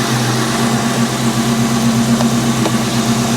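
A modified Alfa Romeo running on E85, with bigger injectors, upgraded coils, cold air intake and aftermarket exhaust, idles steadily with a deep, even low rumble throughout, close by and with no talk.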